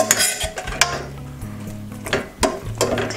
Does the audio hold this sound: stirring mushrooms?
yes